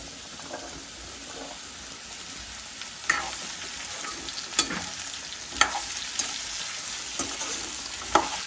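Pumpkin and onions stir-fry in a pan with a constant sizzling hiss, punctuated by several sharp spatula scrapes at irregular moments.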